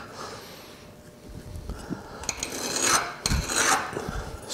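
A hand scraper shaving wood gives short raspy scraping strokes, faint at first, then a few louder passes close by.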